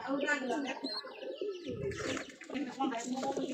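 Pigeons in a loft coo with low throaty calls and soft chirps, close by and overlapping, while someone talks over them.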